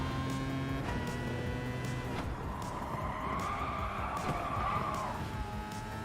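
Race car engine and skidding tires in the GT Sport video game, a steady loud drone with a long tire squeal rising midway and fading, continuous throughout.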